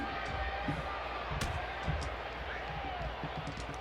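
Distant crowd murmur and cheering at a wrestling event, with scattered thuds and slams echoing through an arena, a speaking voice running over the top.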